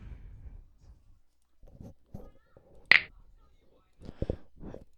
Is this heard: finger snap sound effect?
yes